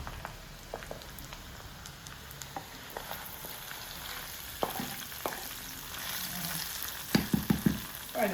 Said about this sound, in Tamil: நல்லா ஸ்லோ பண்ணிவிட்டு பொறுமையாக வறுக்கணும்